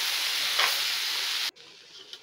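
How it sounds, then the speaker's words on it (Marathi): Tomato puree masala sautéing and being stirred in a hot pan: a loud, even sizzle for about a second and a half that then cuts away sharply to a much quieter pan sound with a light tap near the end. "थोडंसं आपण टमॅटो प्युरी घातल्यानंतर थोडंसं अजून परतून घ्यायचं आहे."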